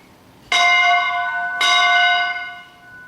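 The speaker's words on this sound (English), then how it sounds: "At length, the chime broke upon his listening ear." A bell chimes the hour with two strong, resonant strokes about a second apart, each ringing on with a long, slowly fading hum over a quiet background.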